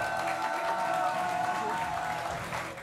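Studio audience applause on a French TV debrief show, a broad steady wash of clapping at moderate level that fades slightly toward the end, with faint talk underneath.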